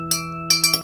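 A spoon clinks against a glass while stirring colored water, with a few bright, short clinks at close range over a steady background hum.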